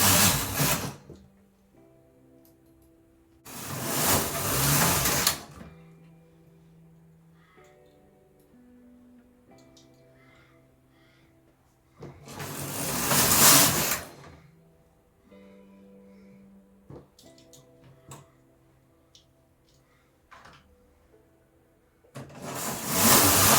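A 4.5mm standard knitting machine carriage sweeps across in loud, rushing passes a few seconds apart while knitting headband rows, with quiet mechanical clicks and faint knocks between each pass.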